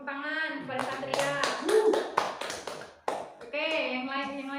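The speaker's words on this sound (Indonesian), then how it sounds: "coba beri tepuk tangan kepada Satria." Students in a classroom give a brief burst of hand clapping for a classmate, quick close claps mixed with children's voices and chatter before talk resumes.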